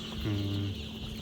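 A dense, continuous chorus of nine-day-old black Andijan chicks cheeping together, with a short low hum rising briefly underneath.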